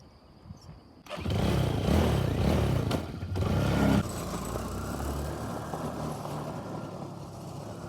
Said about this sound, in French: je vais prendre la moto et aller faire un petit tour